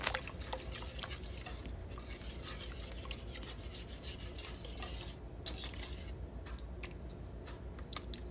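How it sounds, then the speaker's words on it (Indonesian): Broccoli soup with milk and wheat flour being stirred in a pot, a continuous soft rasping and scraping of a utensil against the pan, close but quiet, with no talk. "kita aduk hingga tercampur rata dengan susu"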